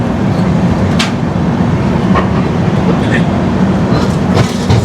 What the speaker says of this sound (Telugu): సామర్లకోట్ నుంచి ట్రైన్ బయలుదేరింది.